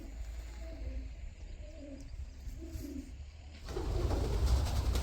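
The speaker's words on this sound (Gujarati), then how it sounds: "તેની અંદર કબૂતર તેના માળા કર્યા છે" Pigeons nesting inside a very deep well give soft, repeated cooing calls in a slow rhythm. A louder rush of wind-like noise then takes over and masks the birds.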